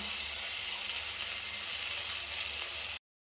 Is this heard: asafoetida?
yes